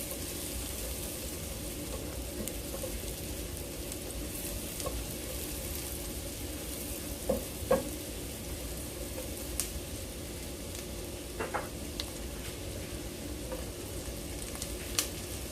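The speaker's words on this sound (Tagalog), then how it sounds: "magsasaute tayo ng onion, konting halo, and then once translucent na po yung onion natin, pwede na po natin i-add yung bawang" Onion and garlic sauté in a pan for pesto pasta with shrimp, a steady close sizzle that runs without a break, with a few faint clicks of stirring.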